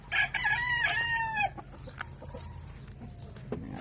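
Close rooster crows loudly at a small chicken coop, then fainter hen clucks and scattered chirps follow over a quiet background.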